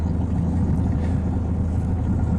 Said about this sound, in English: you can hear that I'm actually just idling the boat very slowly across